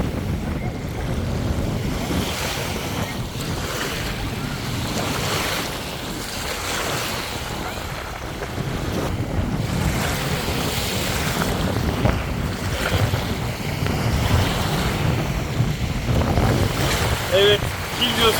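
Sea waves and strong wind at a windsurfing beach on the Bosphorus in Istanbul, near Boğaziçi University: continuous loud surf wash and buffeting wind noise on the microphone, steady throughout with no talking.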